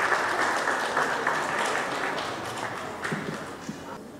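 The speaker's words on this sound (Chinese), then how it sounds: "请大家给他们热烈的掌声鼓励" Warm, sustained applause from an audience at the 2013 Taipei Arts Awards ceremony, a dense even patter of many hands that slowly thins toward the end, with no talking over it.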